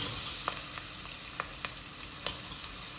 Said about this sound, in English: Onions have to be sauteed until they become transparent.